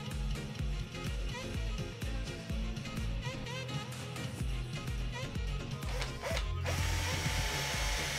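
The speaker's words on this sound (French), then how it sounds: "Puis perce tous mes tasseaux." A drill bores holes in wooden battens, a sustained mechanical whine with rapid ratcheting clicks, its pitch shifting near the end as the bit spins on, steady and fairly close with no talk.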